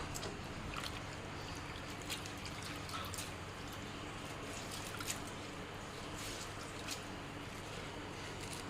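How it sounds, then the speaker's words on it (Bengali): Dal at a full boil with chopped Malabar spinach leaves going into the pot, heard as a steady, dense bubbling and watery churning with soft splashes and clicks from the leaves dropping in, continuous throughout. "এই দেখো ডালটা ফুটে গেছে একদম এখন এর মধ্যে দিয়ে দেব পুইয়ের পাতা"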